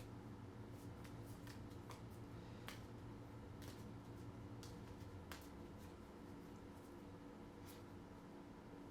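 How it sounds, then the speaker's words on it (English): Large oversized settlement cards from the Kingdom Death: Monster board game being shuffled, a steady papery riffle and rustle with scattered sharp flicks and snaps, close and continuous throughout. "But because I talked about problems with my shuffling before, I'll shuffle again"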